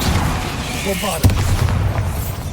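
A Bombarda blasting spell goes off in Hogwarts Legacy: one sharp, heavy boom lands midway through, standing out from a steady bed of game music and ambience.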